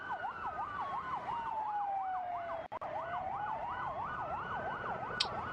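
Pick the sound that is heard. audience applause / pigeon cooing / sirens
sirens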